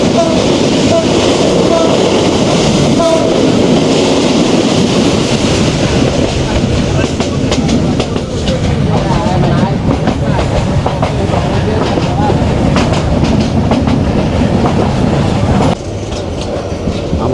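The Chattala Express races at speed past Bhairab Bazar Junction in Bangladesh, its wheels clattering in a continuous loud rush with rhythmic clicks and some screeching, heard up close from on board.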